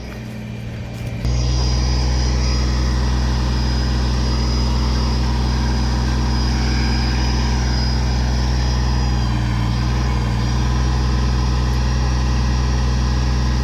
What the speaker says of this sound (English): my granddaughter's running the backhoe